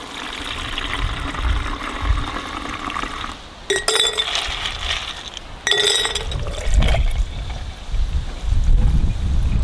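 Fermented spruce tip tea with citrus juice is strained, giving glass clinks and trickling, pouring liquid close up, with a steady low rumble beneath.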